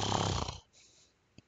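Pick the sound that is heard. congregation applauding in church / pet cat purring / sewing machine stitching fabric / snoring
snoring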